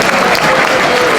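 Dinner audience applauding at a St Patrick's Day dinner, a dense, steady wash of clapping from a room full of people, loud and continuous throughout the short stretch.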